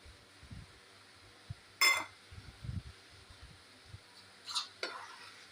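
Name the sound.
flour being stirred into boiled water in a pot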